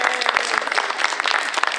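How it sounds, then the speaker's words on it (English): Senior center audience applauding steadily at close range, a dense, even burst of clapping with no voices over it. "So can we give them and Bluebird a round of applause?"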